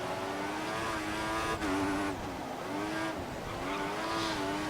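A Formula 1 car in the F1 2014 video game at the Singapore Grand Prix, its high-revving engine whining steadily, with a brief rattle and a dip in pitch as it runs over a curb.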